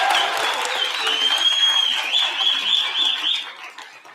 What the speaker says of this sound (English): another round of applause for all the recipients